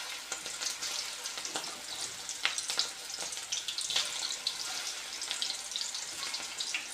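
Cabbage 65 fritters deep-fry in hot oil, giving off a steady bubbling sizzle with scattered crackles and pops. The sound is fairly quiet and continuous, with no talking.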